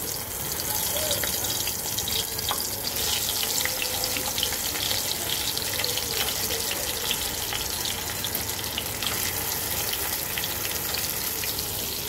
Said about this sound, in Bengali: এখন মাছগুলো আমি ভেজে নেব